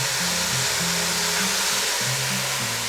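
Spices and ground masala, including coriander and garam masala, fry hard in ghee in a karahi, a loud continuous sizzle with a low wavering hum underneath, nobody speaking.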